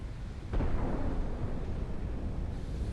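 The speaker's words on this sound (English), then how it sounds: "That was a nice explosion, too, by the way." An explosion in the factory-building game Satisfactory: a sudden deep boom bursts out after a brief lull, then rolls into a long rumbling tail that slowly fades, with no talk over it.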